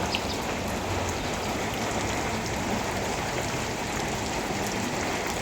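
Steady light rain pattering on surfaces, a continuous even hiss of drops with no voices or other sounds.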